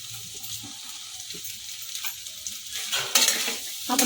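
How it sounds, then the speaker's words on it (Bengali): Spring onions are stirred into a sizzling red sauce pasta with peanuts in a pan, a spoon scraping and clinking against the metal over a steady frying hiss, the scraping growing louder near the end, with no voices. "এবারে স্প্রিং অনিয়নটা দিয়ে আমি এটা নেড়ে চেড়ে নামিয়ে নেবো"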